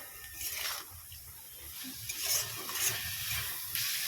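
Chicken chow mein ingredients being stirred together with a fine roasted black pepper paste in a pan, giving soft, steady scraping and a light sizzle, with faint wet squishing throughout and no voices.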